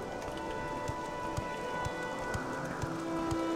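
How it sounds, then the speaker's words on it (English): Steady hiss of rain falling in a video game, soft and continuous, with occasional faint dull thuds over it. "I'll take rain over the ash storm."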